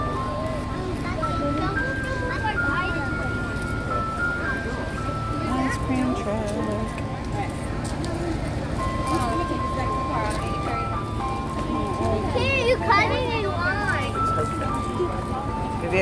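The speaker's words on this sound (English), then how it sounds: "Have you ever seen an ice cream truck before?" An ice cream truck plays its tinkling melodic jingle continuously, fairly loud and near, over road noise, with a child and an adult talking alongside.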